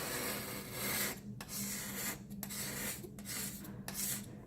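Steady rasping scrapes on a granite surface as heavy calcium deposit is worked off, several close back-and-forth strokes with brief pauses between them.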